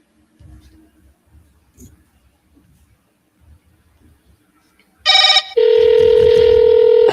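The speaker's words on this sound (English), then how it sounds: "Double dial, send SMS." A phone places a call: a burst of dialing tones followed by a loud, steady ringback tone, after quiet murmured background voices in an office setting.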